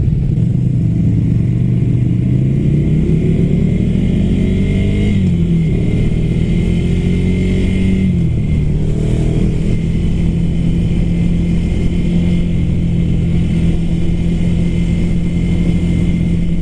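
A Ducati Scrambler Flat Track motorcycle accelerates on a road ride, its loud, steady engine drone rising in pitch through the gears, dipping briefly at shifts, then climbing again, heard close and continuous throughout.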